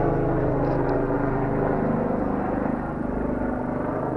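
A helicopter flying overhead at a car lot in Nuremberg, Germany, produces a loud, steady rotor drone with a continuous rumbling thrum throughout.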